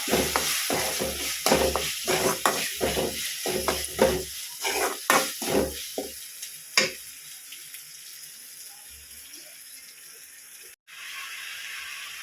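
Chopped onions and tomatoes sauté in a pan, stirred with rhythmic scraping strokes over a soft sizzle. The stirring stops after about six seconds, leaving a quiet, steady hiss.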